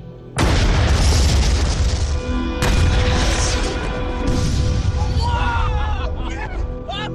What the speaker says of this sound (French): une belle explosion.